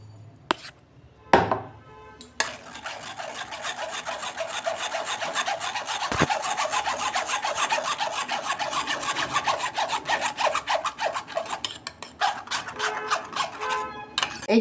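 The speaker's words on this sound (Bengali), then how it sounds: "সর্ষে আর কাঁচা লঙ্কাটা আমি ছেঁকে নিয়েছি" Ground mustard and green chili paste being pressed and strained through a sieve, a dense continuous rasping scrape with fast rhythmic strokes after a few opening knocks, close and fairly loud.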